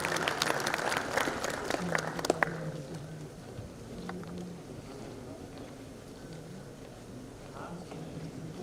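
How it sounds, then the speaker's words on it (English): Audience applause for dignitaries at the Institution's Innovation Council Regional Meet 2025, clapping briefly at the start and quickly fading into low room noise with faint murmuring voices. "Please give a big round of applause for all the dignitaries."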